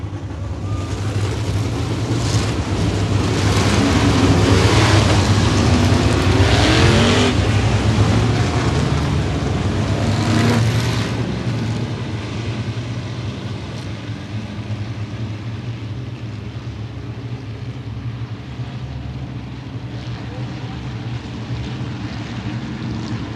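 A pack of modified race cars roars off turn four at the green flag of the 2013 Gold Cup 50 at Baer Field Speedway, a loud sustained engine roar that swells and then settles into a steady drone.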